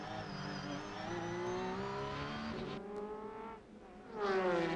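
GT500 race cars, an Esso Supra and a Honda NSX, racing on track, with engines droning steadily at high revs, a shifting pitch as they pass, and another surge of engine noise at the end.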